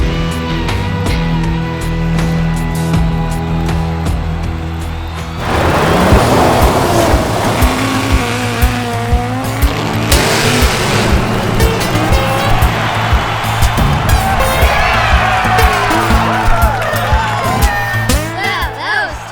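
A Power Wheels Porsche 911 GT3 ride-on toy car drives up for a jump over toy cars, its electric motor whirring loud and close after a quieter opening, with people talking over it.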